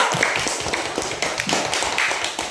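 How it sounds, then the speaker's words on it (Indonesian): A classroom of students claps for a presenting group, a dense patter of hand claps that stays fairly close and steady throughout. "Tepuk tangan untuk kelompok 2"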